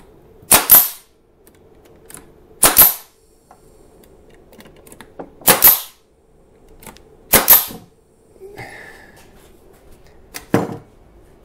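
A nail gun fires repeatedly into wooden parts of a farmhouse entryway bench, five sharp, loud cracks spaced a couple of seconds apart, with faint shop noise between shots and no talking.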